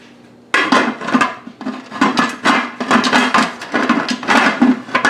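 A metal pressure canner lid being fitted and turned to lock, giving a run of close metallic scrapes, clanks and grinding knocks in uneven bursts after a quiet start.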